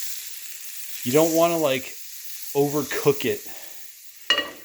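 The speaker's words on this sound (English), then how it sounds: "you want your butter to kind of sizzle and maybe start lightly browning" Butter sizzles in a stainless steel pan while eggs are cooked over easy, a steady soft frying hiss running under a person talking.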